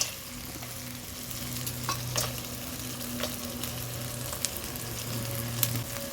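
Cashews frying in a pan for chire pulao while being stirred, a continuous soft sizzle with scattered scraping clicks of the spoon, close and fairly quiet.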